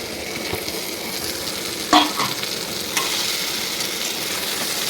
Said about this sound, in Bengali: দেখো কেটে রাখা আলুগুলো আমি দিয়ে দিচ্ছি।